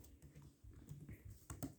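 Code being typed on a computer keyboard, with a quick uneven run of soft clicking keystrokes, close but quiet, over about two seconds with no talking.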